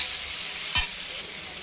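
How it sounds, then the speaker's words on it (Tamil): Chopped ivy gourd with salt is stirred and sautéed in a pan, giving a soft continuous sizzle with one sharp scrape of the spoon partway through. Close and fairly quiet. "சால்ட்டையும் சேர்த்துட்டு நல்லா வதக்கி விட்டுடலாம்"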